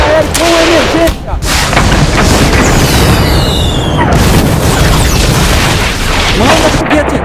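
Continuous loud booms of artillery, 60mm mortar and 60mm cannon fire pound close by in a dense, overlapping barrage, with voices shouting over the din.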